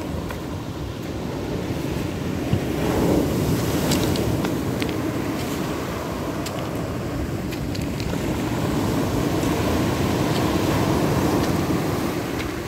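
Rough Black Sea waves in mid-August roll and wash continuously, a broad steady roar of surf with wind rumble on the microphone and no voices.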